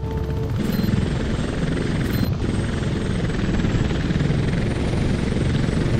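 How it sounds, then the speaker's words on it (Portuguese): Steady, loud rotor and turbine drone of an Apache attack helicopter in the video game Apache Air Assault on PS3, heard from the cockpit view, continuous throughout with brief high interface tones near the start. "Visão dentro do helicóptero."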